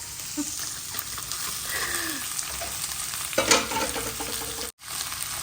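Freshly cooked palabok sauce is stirred in a pan, a steady close sizzle with scraping spoon strokes and a brief louder surge near the end.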